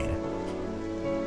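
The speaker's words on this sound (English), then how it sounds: "Let's get home and out of the rain." Rain falls in The Witch's House video game as a steady, even patter and hiss, layered under sustained tonal game music for a brief moment.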